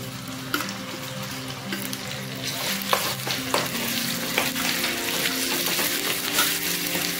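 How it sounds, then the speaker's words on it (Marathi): Coconut and onion paste frying in oil with garlic for a village-style egg curry, a steady bubbling sizzle with occasional scrapes and clinks of a stirring spoon, close and without talk. "याला मस्त तेल सुटेपर्यंत आपण फ्राय करून घेऊया"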